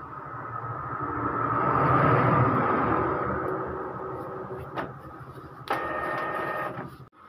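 An Epson L3110 inkjet printer runs its printhead cleaning cycle, giving a steady mechanical whir that swells and fades, with a few sharp clunks near the end, close and alone.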